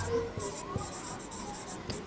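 Chalk or marker scratching across a classroom board during a biology lecture, a few short strokes with soft rubbing, faint and close, no voice over it.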